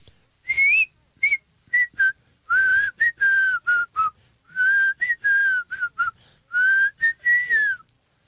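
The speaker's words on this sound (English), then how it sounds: "I got to practice on my whistle." A person whistles a wandering melody in short, clear phrases with brief pauses between them, close and fairly loud, with no other sounds.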